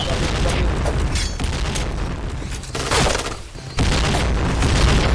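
Grenade blasts in the shooter game Point Blank, heavy booming bursts and gunfire-like crackle in loud repeated waves, with voices briefly mixed in.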